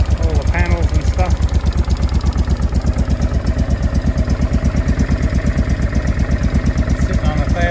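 Honda Deauville NT650V motorcycle idling steadily at about 1,000 rpm with a little choke, a close, even chugging pulse with a faint mechanical clatter, running throughout without a break.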